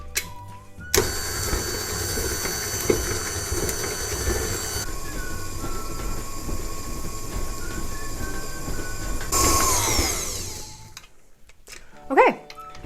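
An electric mixer beats cookie dough after eggs and vanilla are added, a steady loud whirring drone running about ten seconds before it stops, with a brief voice near the end.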